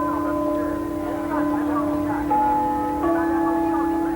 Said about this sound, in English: The tones of The East is Red, chiming the hour, welcome travellers to Beijing's main station.